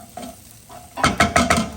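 Onions, leeks, peppers, chili and garlic go together into a hot pan, a quiet sizzle giving way to several loud rhythmic scraping stirs, close and brief.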